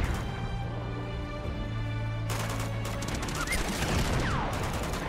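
Gunfire in Uncharted 2: Among Thieves, a sustained tone giving way to a burst of rapid shots and sharp impacts in the second half, loud and close.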